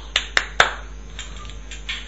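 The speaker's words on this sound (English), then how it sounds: "Just clap 3 times," Three quick, sharp hand claps close to a phone running a clap-to-find app, evenly spaced, followed by fainter quieter taps.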